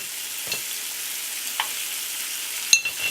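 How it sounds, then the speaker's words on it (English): Bacon frying in a pan hisses with a steady, close sizzle, broken by a few small pops and utensil taps. "We're going to let this fry up for a minute or so."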